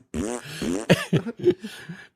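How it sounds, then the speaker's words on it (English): Tesla fart sound effect played through the car's speakers: a series of several close, sputtering, buzzy fart noises of varying length in quick succession inside the car, alone. "Hey, you want to see the car fart?"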